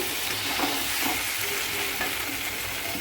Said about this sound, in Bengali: এবার আমি এর মধ্যে দিয়ে দেবো ভেজে রাখা পটল আর আলু। ভালো করে মশলাটা আমি মিশিয়ে নেব।